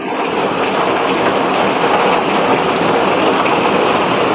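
Heavy rain pours steadily onto an outdoor fish tank area at a house, a dense, loud, unbroken hiss of drops hitting surfaces throughout, with no voices.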